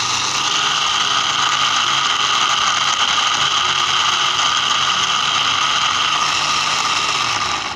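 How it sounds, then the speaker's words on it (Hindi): An electric grinder runs steadily, loud and close, whirring as it grinds cinnamon, black pepper, cloves, dried coriander and cumin into garam masala, with a rattling buzz that holds constant throughout. "अब हम इसे ग्राइंड करेंगे अच्छे तरीके से"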